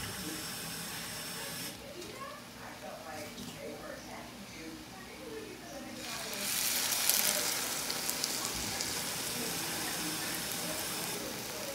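Water pours into a hot cooking pan, a soft stream building to a louder hissing sizzle partway through, with someone talking over the first part.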